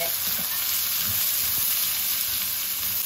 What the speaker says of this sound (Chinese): 再把我们的豆角放进来，继续给它翻炒均匀